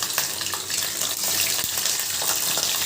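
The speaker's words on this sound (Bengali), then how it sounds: "মাছটাকে ভেজে নিচ্ছি," Marinated rui fish pieces, coated in lemon juice, turmeric and chili, frying in a pan with a continuous close hiss and light crackle, a few soft knocks, no talking.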